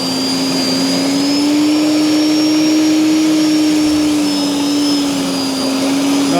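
An electric corded lawn dethatcher, Tiectown or WEN, runs on its highest setting. It gives a loud, constant motor whine with a steady pitch and a rushing, airy roar, close and continuous, with no speech.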